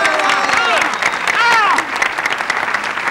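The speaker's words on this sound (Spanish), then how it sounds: "¡Aplauso para Pastelería Ramírez!" Steady crowd applause at a live street comedy show, loud and continuous with whoops and shouting voices rising over the clapping midway before easing slightly.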